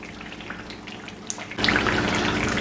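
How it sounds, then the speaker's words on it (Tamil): Coconut milk bubbling as it fries in oil while making homemade coconut oil: a soft crackle and popping of bubbles that becomes a denser, louder sizzle partway through and holds steady to the end. "இந்த பொரியிற இப்படி நிறைய பபிள்ஸ் வர எல்லாம் நல்லா அடங்கிடும்"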